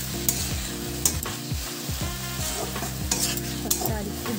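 A spoon scrapes rhythmically through red spinach with turmeric in a sizzling pan, repeated stirring strokes about every half second over a steady frying hiss, with no talk.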